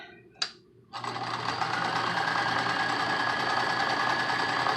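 Sewing machine stitching fabric for a homemade protective face mask: a single click, then the motor starts and runs at a steady fast hum with rapid needle chatter, close and loud.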